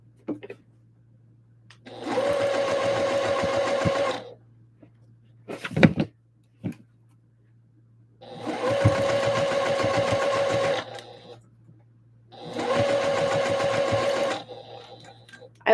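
Three separate bursts of steady whirring come from a sewing machine top stitching layers of a Christmas dress, each lasting about two seconds, with a low constant hum and a few small handling knocks between runs.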